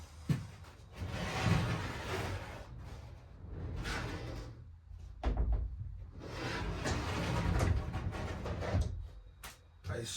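A DIY pocket door slides open and shut along its track in a home under renovation, with soft rolling swishes and a few light bumps, several passes at moderate level, and a voice talking between them.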